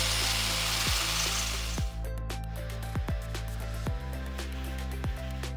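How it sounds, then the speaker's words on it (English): A power drill whirs steadily, drilling holes into concrete with repeated pulses and bursts of motor noise, loud and close. "Drill vertically and pay attention to the correct depth of the drill hole."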